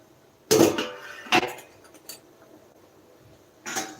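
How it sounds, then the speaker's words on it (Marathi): A cooking pot lid lifted off in a home kitchen, a loud metallic clink followed by a second clatter and a later light rattle, close and alone without talk. "आता मी हे काढते झाकण"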